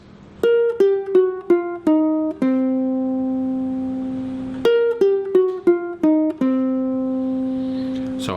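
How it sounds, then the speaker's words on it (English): A ukulele blues riff picked with all four fingers, a quick run of plucked notes ending on a long ringing low note, played twice in clear, close, solo repetition. "So this riff will sound like this."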